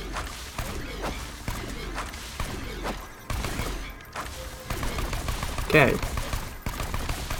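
Gunfire in the video game Borderlands 2, rapid repeated shots cracking in quick bursts throughout, fairly close, with someone talking over the shooting.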